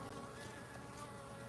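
Local feral honey bees, kept without sugar water or mite treatment, humming at their hive as a faint, steady buzzing drone.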